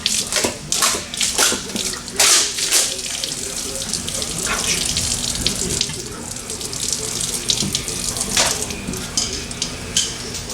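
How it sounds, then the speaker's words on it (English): Coolant from a Ford 6.0 Powerstroke diesel engine in an Excursion splashes and pours steadily for several seconds in a shop, a close, continuous watery gush with scattered spatters. "So now you grab it, give it a wiggle, and dump coolant all over Jeff."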